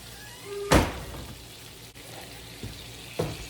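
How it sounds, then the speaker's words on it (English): Onions cooking in a pan alongside hamburger steak meat in a country kitchen, a soft, low sizzle broken by a sharp thunk early on and a few lighter knocks, no speech. "I'm going to go ahead and add these onions in with this meat and let them kind of be cooking"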